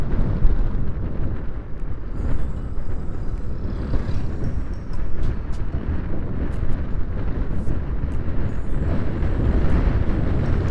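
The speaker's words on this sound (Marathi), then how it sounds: "मस्त हवा सुटली आहे." Strong wind roars across a mountain ghat road in a loud, continuous rush buffeting the microphone, with dull low rumbling and no pauses.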